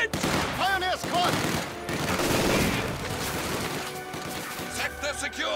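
Battlefield gunfire in Company of Heroes 2 on the Rzhev summer map, with bursts of machine-gun fire and crashing impacts running throughout, while game voices shout over the shooting.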